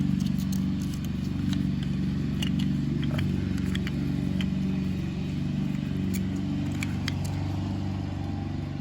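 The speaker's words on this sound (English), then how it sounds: "Sorry about the noise. My neighbor's mowing his lawn" A neighbor's Honda lawn mower runs steadily outside at moderate distance, a continuous droning engine hum with faint clicks and rattles over it, no speech.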